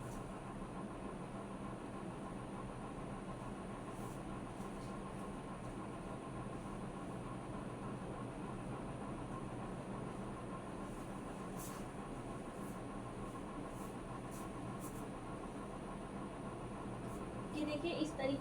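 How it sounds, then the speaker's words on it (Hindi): A sewing machine stitches a kurti in a steady, unbroken mechanical whir that runs close and even for the whole stretch, with a slight rise in intensity near the end. "तो अब मैं दोबारा आपको सिलाई लगा के इसे दिखाती हूँ।"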